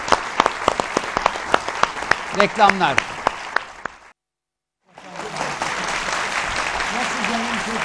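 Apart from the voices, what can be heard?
studio audience applauding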